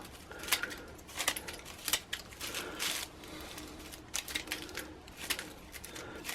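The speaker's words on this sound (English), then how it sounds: "so you go around with the scissors" Scissors snip around a holly ring in quick, irregular clicks and crisp cuts, some coming in short clusters, fairly quiet and close, with no talking.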